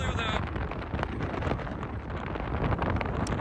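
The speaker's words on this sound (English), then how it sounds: "Reporting live from Glamis sand dunes in a sandstorm." Strong wind during a sandstorm at the Glamis sand dunes roars and buffets a microphone in a steady, loud blast, with brief faint voices near the start.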